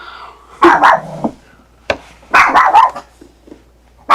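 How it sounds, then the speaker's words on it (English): A dog barks indoors in loud, close bursts, a pair of quick barks, a single one, then a rapid cluster, with quiet pauses between. "I'm really sorry if you can hear my dog barking"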